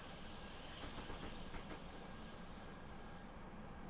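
A four-car train pulls out of a station on the Munich to Garmisch-Partenkirchen line, its steady close rumble of rolling wheels and rail noise carrying throughout, with a high hiss overhead and faint squeals as it gathers speed.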